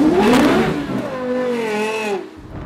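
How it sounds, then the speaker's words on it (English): A 2012 Lexus LFA revs hard on the Estoril circuit in Portugal, its engine note climbing and sweeping in pitch as it accelerates, loud and close, then dropping off abruptly at the end. "check out this video of former F1 and Le Mans driver Alex Wurz flogging the 2012 Lexus LFA around the Estoril track in Portugal"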